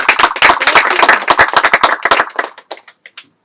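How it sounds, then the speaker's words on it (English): A crowd of secondary school students at a quiz competition applauds with dense, loud clapping that thins out into a few scattered claps before stopping. "Please, students, give yourself big clapping."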